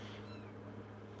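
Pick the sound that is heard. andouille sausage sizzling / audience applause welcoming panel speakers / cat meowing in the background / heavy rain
cat meowing in the background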